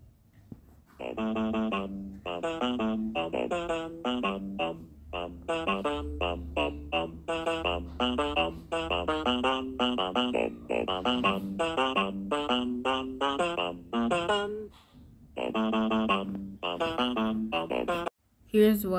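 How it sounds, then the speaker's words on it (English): Bump Bevel, a monster from the game My Singing Monsters, singing a bouncy, rhythmic vocal line of short repeated syllables over a faint low backing, steady for most of the stretch with a brief pause near the end. "So Bump Bevel sounds like this."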